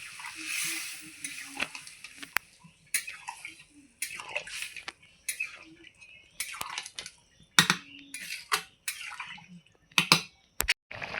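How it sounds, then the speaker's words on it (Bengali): Curry broth with soft, half-melted potatoes bubbling in a pot, heard as intermittent sizzling and bubbling bursts, close and moderately loud, separated by quiet gaps. "এ দেখো এখন আমার টকগুয়ে ঝোল ফুটছে"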